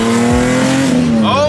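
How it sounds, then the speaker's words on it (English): BMW E30 fitted with an S54 engine blips its revs to match a downshift, a loud close engine note rising then settling within a second and a half, with excited voices over it. "It actually rev matches now."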